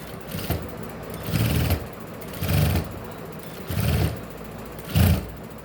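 A sewing machine stitches a blouse in four short, evenly spaced bursts of whirring, each run stopping briefly before the next, close and fairly loud.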